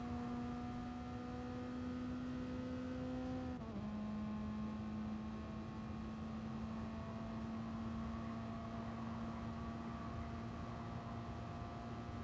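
Toyota S-FR race car engine in Gran Turismo Sport, a steady droning tone that dips briefly in pitch, as on a gear change, then holds and slowly climbs, with no voices.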